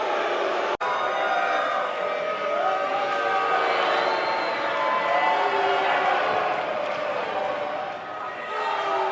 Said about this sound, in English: We've got an animated crowd here tonight,